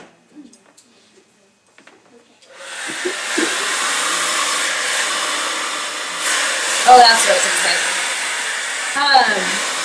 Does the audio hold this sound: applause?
no